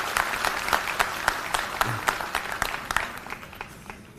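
A crowd claps steadily for several seconds, with individual sharp claps standing out above the general applause.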